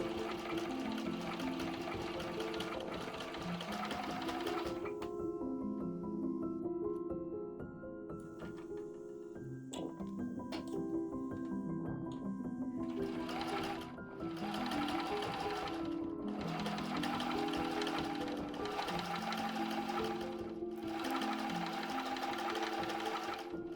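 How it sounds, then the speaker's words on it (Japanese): A sewing machine runs steady and close while stitching a small fabric box between two stitch lines, pausing briefly midway before resuming in several short bursts. "ミシンで縫います。"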